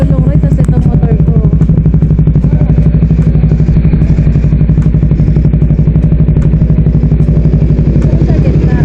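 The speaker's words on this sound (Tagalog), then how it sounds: "Yung long ride, tapos itong motor ko." A motorcycle on a long ride to Dingalan, Aurora, its engine droning loud and steady with a fast, even pulse and wind rush for the whole stretch, no voices audible.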